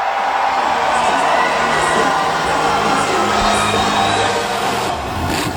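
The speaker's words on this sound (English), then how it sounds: "RJ climbed out to the roar of the crowd here in Madison" Arena crowd at a monster truck show in Madison, Wisconsin roaring and cheering, a loud continuous wall of shouts and whoops that holds steady and eases slightly near the end.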